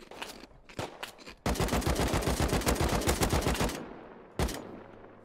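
An M2 turret in Rust opens up with a sustained rapid burst of automatic gunfire, loud and close, preceded by a few single shots and followed by one more sharp report.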